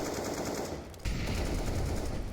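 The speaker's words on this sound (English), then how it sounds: "niko tries a couple wall bangs as his entire team is clumped up here together" Wall bang gunshots in CS:GO, a continuous rattle of rapid automatic fire that cuts out briefly near the one-second mark, then resumes heavier and louder with a deeper thud.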